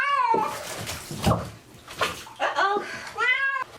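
A pet cat meows loudly and repeatedly while getting its first bath in a tub, its drawn-out, rising cries near and mixed with splashing water and a person speaking softly to it.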